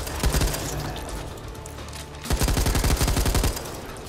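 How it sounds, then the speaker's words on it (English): Assault rifle fire in the video game Back 4 Blood: sustained loud automatic bursts, a rapid even rattle of shots that pauses briefly midway, then resumes in a sharper, punchy string before stopping. "Assault rifle!"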